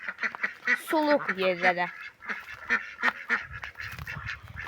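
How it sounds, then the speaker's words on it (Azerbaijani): A flock of young ducks quacks and honks in busy overlapping calls close by, with scattered rapid bursts, as someone speaks intermittently among them. "ördəklər su heyvanıdır"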